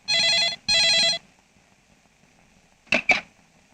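A telephone in a Telugu film scene rings twice in loud, close bursts, then falls quiet before two short clicks as the receiver is picked up.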